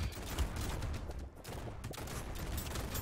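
Rapid shotgun fire in the top-down arena game Brotato, with a dense, continuous barrage of overlapping blasts and impacts filling the whole stretch at steady loudness.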